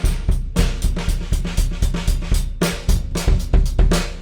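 A drum kit played with the wrong sticks is pounded in a busy, uneven groove, with boomy, dull hits and heavy low thuds repeating every half second, loud and close.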